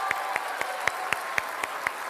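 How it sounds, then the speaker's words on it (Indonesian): Applause for two gubernatorial candidates, Basuki and Anies, at a televised final debate in Jakarta, with a soft crowd wash under regular, evenly spaced loud claps that beat out a steady rhythm. "Sekali lagi kita kasih tepuk tangan untuk dua kandidat."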